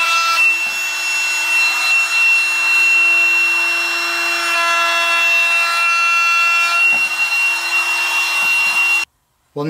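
A power sander works over a wooden menu chalkboard frame with a loud, steady high-pitched whir and a few light scrapes, then cuts off abruptly near the end.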